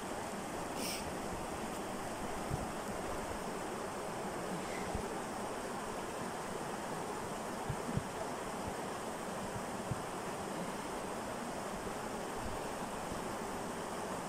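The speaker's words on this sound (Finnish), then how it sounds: "Elikkä tämä on tämä koske yläpää." Rushing rapids at the upper end of the Mämmenkoski river rapids, near a dam and fish ladder, give a constant broadband roar of water with wind noise, steady and unbroken throughout.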